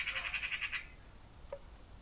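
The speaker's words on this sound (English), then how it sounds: "Magpies are giving him grief." Magpies squawk in a woodland camp, a quick run of harsh, pulsing rasping calls close by that stops short, followed by a faint single chirp in quiet outdoor air.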